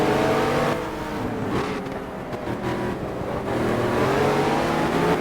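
Race car engine in the GT Legends racing game, a steady loud drone with rising and falling revs throughout, no voices over it.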